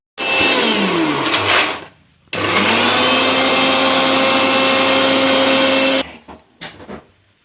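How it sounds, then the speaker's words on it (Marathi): A kitchen mixer grinder whirs loudly and steadily while blending cake batter, with a steady motor whine. It runs in two long bursts broken by a short pause, then stops and leaves a few faint clatters. "या केकची सगळी पाक रेसिपी मिक्सरला फिरवता फिरवता घेतली बघा"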